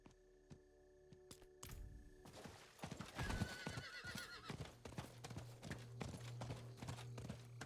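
A horse ridden in the Diablo IV game world gives out rhythmic clip-clopping hooves and a whinny, fairly near but quiet, over a low steady electronic hum, with sharp clicks early on.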